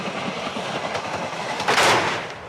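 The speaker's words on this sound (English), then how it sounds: "there's another train going to be coming down the track" A train rolls along the rail track on a film stunt set for a Western, a steady loud rumble and clatter of wheels with a brighter burst of noise near the end.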